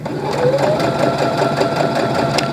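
Sewing machine running a straight stitch along a zipper bag, a close, loud, steady mechanical whir with rapid even needle pulses throughout.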